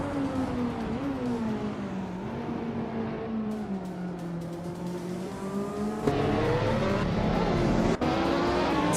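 In a racing video game with a 2013 Ferrari 458 Speciale in the field, race cars launch off the line with a sustained, rising engine howl. Pitch dips and climbs through gear changes, and a louder surge comes near the end.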